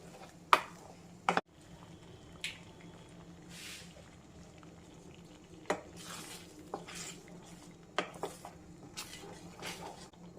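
A spoon stirring remaining ghee in a metal pan while cooking payasam, with a few sharp scraping clinks against the pan over a faint low hum and soft background rustle.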